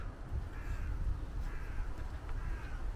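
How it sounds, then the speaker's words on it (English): Crows caw repeatedly from a distance beside a small stream, their harsh calls rising over a steady outdoor rumble and wind noise. "Crows everywhere."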